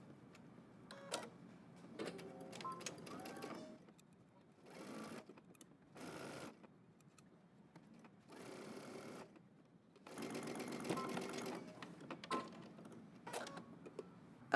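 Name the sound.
sewing machine stitching a seam on a garment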